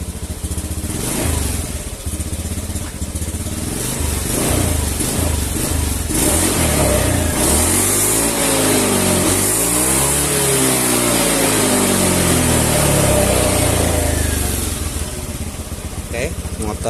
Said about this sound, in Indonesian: Lanjut kita coba gas.